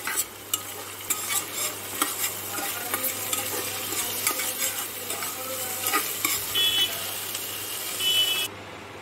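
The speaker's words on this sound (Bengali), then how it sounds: "এবার ভেজানো ছোলা ও বাদাম তার সঙ্গে দিয়ে নাড়ছি" Soaked chickpeas and peanuts fry in a pan with a soft sizzle, broken by repeated scraping and clinks of a spoon stirring, fairly close and steady.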